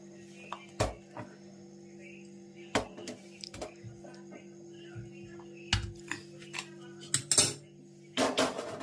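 Kathiyawadi kadhi cooks in a pot: scattered sharp metallic clinks of a ladle and utensils ring out close by over a steady low hum, with quiet gaps between the knocks.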